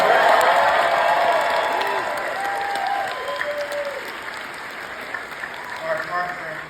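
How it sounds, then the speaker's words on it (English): A live audience at a Mandalorian discussion panel applauds and cheers for the episode's director, clapping loud at first and tapering gradually, with a few whoops and a speaker's voice over it. "let's give a round of applause to our director of this episode"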